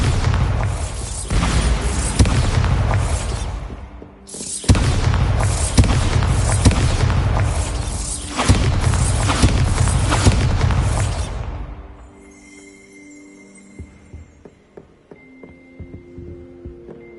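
Bombarda spell blasts in the wizarding game Hogwarts Legacy: three long, loud, roaring explosions one after another, then a sudden drop to quiet with faint lingering chimes and tones.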